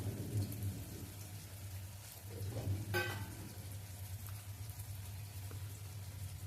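Chicken and potatoes fry in a pan for chicken kosha, giving a soft, steady sizzle like light rain, fairly faint and continuous, with a brief sharp clink of utensil partway through.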